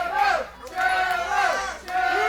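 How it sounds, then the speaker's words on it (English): A wrestling crowd roars in surges behind a fallen wrestler during a no-ropes title match, swelling and dipping in waves of shouting voices, loud and close. "You hear this crowd getting behind Trevor Lee, willing him to his feet"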